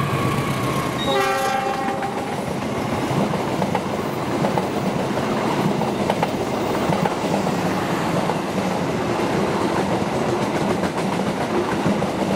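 A passenger train at Bekasi Timur, Indonesia, including premium carriage K3 01804 JAK, sounds a short horn blast and then rumbles past close by with a loud, continuous rolling roar and faint wheel clatter.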